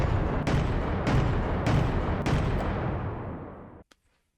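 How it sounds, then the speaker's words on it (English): Railburst flak CIWS guns fire in the naval combat game From The Depths. Four heavy, booming blasts come at a steady rhythm about half a second apart and roll into a loud rumble that cuts off abruptly. "So now we should be firing at a steady rate."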